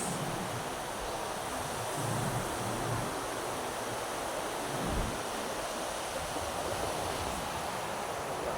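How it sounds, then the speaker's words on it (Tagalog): A steady, broad wash of surf noise from ocean waves at a beach in the Philippines during the southwest monsoon rolls on without pause, with faint low rumbles underneath and no voices. "Alon."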